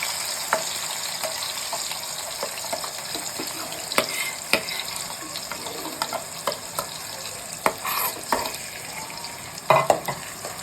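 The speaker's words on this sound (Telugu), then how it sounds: "ఇప్పుడు దీన్ని బాగా మనము బ్రౌన్ కలర్ వచ్చేంత వరకు అయితే ఫ్రై చేసుకోవాలి" Fish curry masala fries in a pan as it is stirred until brown, giving a moderate, continuous sizzle broken by scraping stir strokes and a few louder clatters near the end, with no voices.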